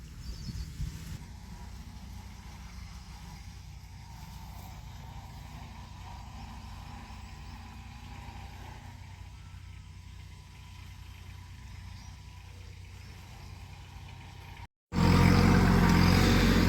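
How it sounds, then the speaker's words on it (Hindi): A small Kubota tractor engine runs steadily at a low idle-like drone in a farm field, fairly quiet and constant for most of the stretch before a sudden loud burst of noise at the very end. "फिर से ट्रैक्टर चला दिया है जी, छोटा कुबोटा।"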